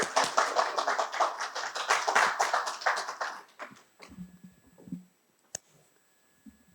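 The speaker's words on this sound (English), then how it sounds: "Let us put our hands together to give him a roaring applause." Audience members at a Toastmasters evening clap for a speaker: a lively burst of close, fairly loud applause from a modest crowd that thins out after a few seconds into a handful of scattered claps and small taps.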